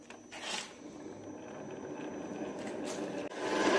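A lathe-type machine tool spins up while a Mercedes W124 lock cylinder is being restored, giving a close, steady whirring rasp with brief louder scraping bursts and a rising surge near the end, no speech.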